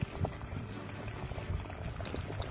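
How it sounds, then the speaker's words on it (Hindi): A pot of water at a rolling boil before noodles go in, a close, continuous bubbling and gurgling with no voices. "तो यहाँ पर हमारा यहाँ पानी में उबाल आ चुका है।"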